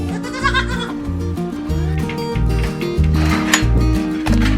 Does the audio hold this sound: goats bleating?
yes